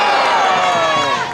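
A rally crowd at a Melbourne march for a fair Australia answers with a loud, brief collective shout whose many voices swell together and then fade.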